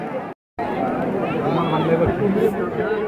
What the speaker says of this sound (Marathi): फुल गर्दी आहे फुल गर्दी आहे